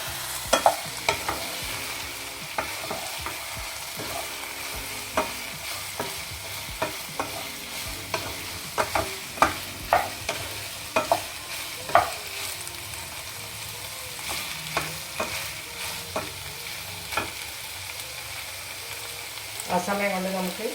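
Soya chunks frying in a pan for street-style chilli soya, a low constant sizzle broken by frequent sharp clicks and scrapes of a spatula stirring, near and steady throughout.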